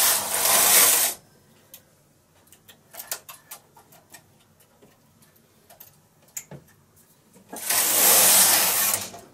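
A knitting machine carriage makes two loud, rushing whooshes as it slides across a row, at the start and the end, with a run of light clicks and ticks between them.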